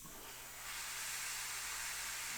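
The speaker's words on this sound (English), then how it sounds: "we're going to spray just a little ways away from it." A steady hiss of spray paint from an aerosol can onto a miniature, close by, swelling slightly after a brief softer start and continuing without pause.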